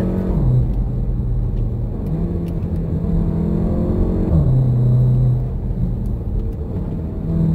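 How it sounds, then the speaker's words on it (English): Porsche Macan accelerating hard from a launch with traction control off, engine note climbing steadily through gear changes as a loud continuous rumble, heard from inside the cabin with no talking. "if you do want to do a launch, you got to have traction control off"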